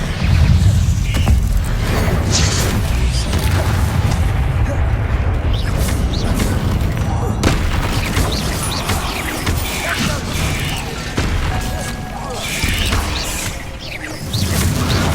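Bombarda blasting spells cast repeatedly in the Hogwarts Legacy video game, with booming explosions, crashes and creaking mechanisms layered over continuous loud game audio and voices across the whole stretch.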